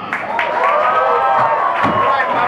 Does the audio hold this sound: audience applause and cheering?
yes